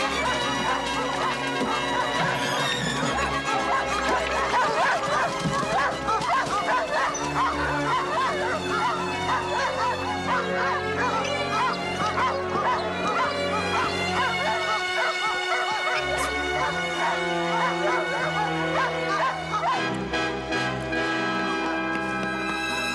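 Dogs barking and yipping, with some whimpering, repeated and irregular over a full musical score that runs throughout.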